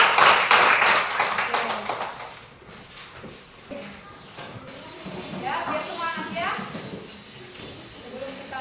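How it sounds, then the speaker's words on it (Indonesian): A classroom of students claps for group 1, a brief burst of clapping at the start that fades into shuffling and scattered noise, with voices talking afterward. "tepuk tangan untuk kelompok 1"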